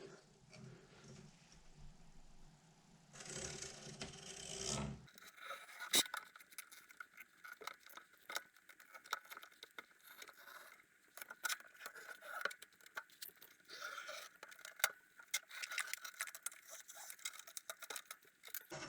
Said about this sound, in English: Now all you have to do is just cut along the edge right here.